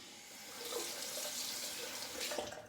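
Water runs from a tap to rinse a razor during a traditional wet shave, a steady close hiss and splash lasting the whole moment with no talk.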